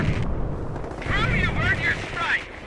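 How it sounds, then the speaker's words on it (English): Satchel charge detonating in Company of Heroes amid battlefield gunfire, a heavy rumbling blast with crackling debris, while a voice talks over it. "Let's do a satchel charge here."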